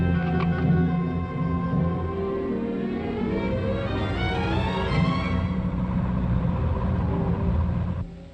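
Army lorries roll along a road carrying troops and mules, giving a steady, close engine rumble and drone that holds at an even level throughout before dropping at the very end.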